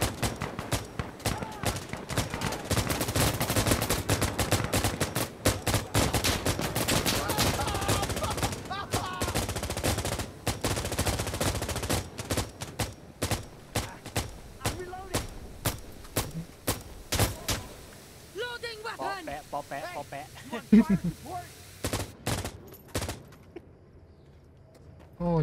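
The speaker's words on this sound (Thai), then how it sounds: "ไม่ค่อยได้ยินกระสุนเสียงกระสุนเฉียวหัวได้ยินแต่กระสุนเข้าหัว" Rapid bursts of automatic and single-shot gunfire from the tactical shooter Insurgency: Sandstorm, played in a hardcore night checkpoint mode against AI, dense and loud for most of the stretch before thinning to sparser shots and quieter activity near the end.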